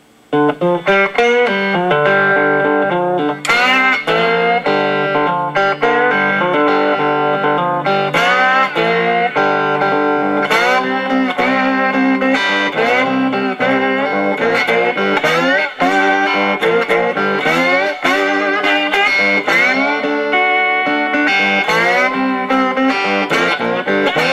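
Electric guitar on the bridge pickup of a modded Peavey Predator with a light crunch of amp distortion, played continuously with strummed chords and single-note lines, loud and close, no voices.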